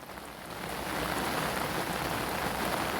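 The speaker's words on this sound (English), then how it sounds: "And hopefully sometime this afternoon the rain might ease." Steady rain falls at a UK pike fishing spot, a dense even hiss of drops on surfaces that swells in the first second and then holds constant, with no voices.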